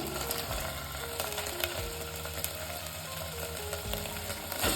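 Ginger garlic paste frying with onions in a pan for chicken masala, a quiet continuous sizzle punctuated by occasional soft clinks of a spoon stirring, no talking.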